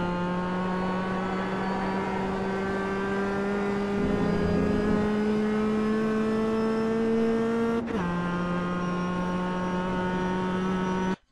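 A Mazda Miata Roadster race car in the iRacing simulator at Lime Rock Park, its engine held at a steady high drone at full throttle, with a brief lift or shift near 8 seconds before the note resumes; no voice.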